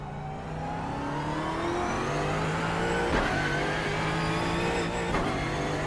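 A race car engine in the iRacing sim drones and revs steadily, its pitch rising and shifting through gears, loud and continuous with no talking.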